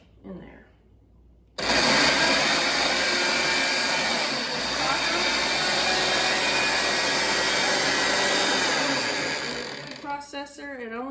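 A food processor chops garden vegetables and garlic for fresh salsa, its motor roaring loud and steady for about eight seconds after a quiet start, then winding down as a voice speaks at the end.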